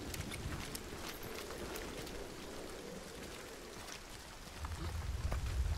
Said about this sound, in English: This rain is terrible.